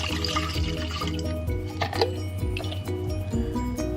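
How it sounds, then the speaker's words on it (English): Water is poured into a cooking pot of red tomato Bolognese sauce and swished around, a close, continuous sloshing and trickling with a few faint metallic clinks. "Put some water,"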